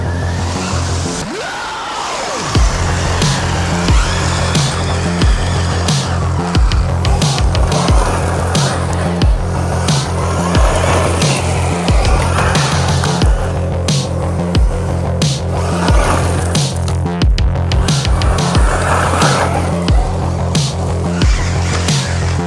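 An FTX Grand Apache RC truck drives through a forest with a constant gritty, whirring motor drone and rattling, bumping rumbles over uneven ground, loud and close for the whole run.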